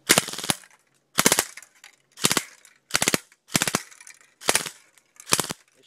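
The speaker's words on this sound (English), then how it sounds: "It's shooting so fast that it's hopping the can around and I can't even get a shot in on it." A fast-firing gun shoots at a can in seven sharp bursts of rapid shots, each short volley separated by brief pauses, loud and close with no talking.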